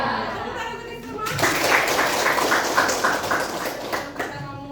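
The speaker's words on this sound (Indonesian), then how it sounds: "Tepuk tangan untuk semua." A vocational high school class claps together after a chant, a dense burst of applause starting abruptly and running steadily for several seconds, with some voices mixed in under it.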